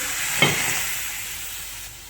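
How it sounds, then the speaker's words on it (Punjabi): Vinegar is poured onto a hot iron tawa being cleaned and bursts into a short hiss that fades over about a second and a half into a soft steam. "ਗਰਮ ਗਰਮ ਤਵੇ ਤੇ ਪਾਉਣਾ ਵਿਨੇਗਰ"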